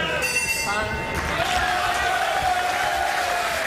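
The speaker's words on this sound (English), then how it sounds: "Crowd trying to get behind the Italian, now based in Gelsenkirchen, 30 miles or so away from Dusseldorf." Boxing arena crowd in Dusseldorf, Germany, roaring steadily behind Italian heavyweight Francesco Pianeta against Albert Sosnowski, a continuous wash of cheering with whistles near the start and commentary over it.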